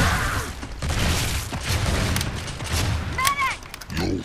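Rapid gunfire and booms erupt in a Gears of War 3 match, with dense bursts of shots layered over game noise and a player's voice talking over the action.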